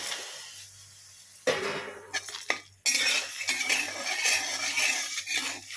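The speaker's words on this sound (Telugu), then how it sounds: "ఆయిల్ లేకుండానే వేపుకోవాలి ధనియాలు పల్లీలు" Coriander seeds and peanuts dry-roasting in a pan without oil, heard as scattered rattling and scraping with louder bursts of stirring partway through, close and clear, no talking.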